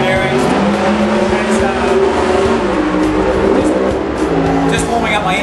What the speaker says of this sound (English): just warming up my engine right now